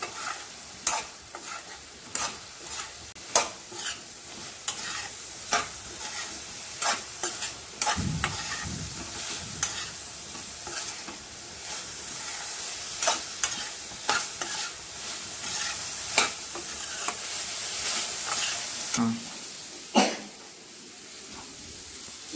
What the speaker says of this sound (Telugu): ఇప్పుడు దీంట్లో మనం ఈ చికెన్ ఫ్రై కూడా వేసేసుకుందాం. బాగా కలుపుకోవాలి.